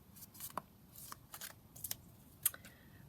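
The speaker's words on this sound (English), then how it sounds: "So I'm just going to trim the piece off." Scissors trim the excess from a piece of lace for a Christmas junk journal belly band: several quiet, separate snips spread across a few seconds, each short and crisp, with no talking.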